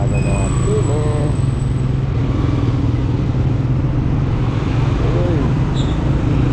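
Road traffic from the saddle of a moving motorcycle carrying a passenger, a loud continuous engine and road roar with passing vehicles, wind buffeting and a voice talking over it.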